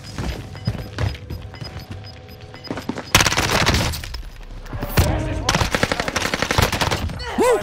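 Fully automatic CX-9 submachine gun fire in the video game Warzone, heard as loud rapid bursts that start around the midpoint and repeat, with a sharp crash among them and someone talking over the action.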